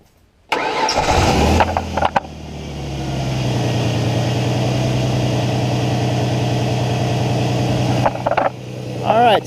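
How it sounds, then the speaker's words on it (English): A 2005 Ford Ranger cranks and fires after a jump start, then settles into a steady, loud idle close by, with brief clunks near the start and end. "Alright, so our car started."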